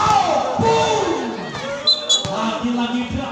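A crowd roars and cheers at an indoor volleyball match after a hard spike, a loud burst of voices and shouts with a commentator talking over it.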